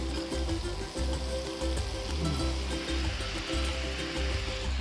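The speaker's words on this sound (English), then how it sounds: "And a little bit of water." Water poured into a pan of cauliflower florets for a curry, a steady rushing, trickling wash that runs continuously for about five seconds with no talk over it.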